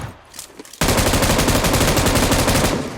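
Automatic gunfire in PUBG Mobile on the Erangel map, a loud continuous rapid burst of shots that breaks out suddenly after a quieter moment and keeps hammering to the end.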